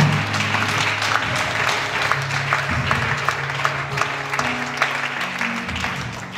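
A church congregation applauds in a steady, dense wash of clapping that carries on without a break, while a low hum and faint voices sit underneath.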